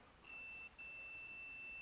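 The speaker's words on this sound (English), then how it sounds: "I can hear the alarm going off" Continuity beeper on a voltmeter sounding a steady, thin high-pitched tone held continuously, with a brief dip partway, over faint background hiss.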